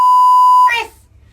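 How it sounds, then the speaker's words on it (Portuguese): A single long, steady censor beep rings out loud and alone, then breaks off into a brief noisy burst and quiet low rumble. "provavelmente você ouviu 2 bip aí"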